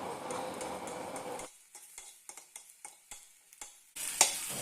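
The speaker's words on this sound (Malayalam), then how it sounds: "ഇതുപോലെ മുളക് വറുത്തതുപോലെ തന്നെ നമ്മുടെ ചെമ്മീനും നന്നായിട്ട് വറുത്തെടുക്കാം" Dried prawns fry in a pan with dry crackling, intermittent stirring scrapes and light ticks; a louder burst of sizzle comes near the end.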